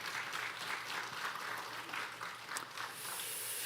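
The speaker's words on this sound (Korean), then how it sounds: "우리 예진 간사님 그리고 우리 찬양팀 찬양대원들에게 따뜻한 박수 부탁드립니다." Church congregation giving warm applause for the worship team and choir, a steady, dense wash of many hands clapping at moderate distance, fairly quiet and continuous.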